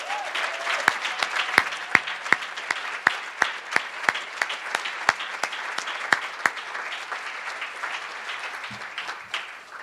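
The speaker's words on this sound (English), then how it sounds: "Let's give them a huge round of applause." A crowd claps loudly and steadily, with sharp individual claps standing out from dense applause that fades slightly toward the end.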